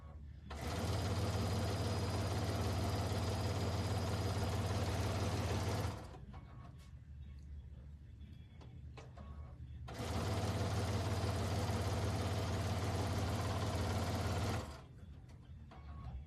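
Sewing machine stitching pieces of a quilted wreath wall hanging together, two steady sustained runs of fast motor whir, each about five seconds long, separated by a quieter pause.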